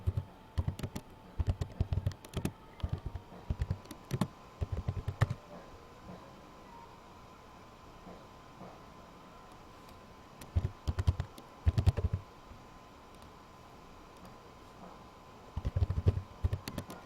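Typing on a computer keyboard, close and clear, in clustered bursts of rapid key clicks separated by quiet pauses, with a faint steady hum underneath and no talking.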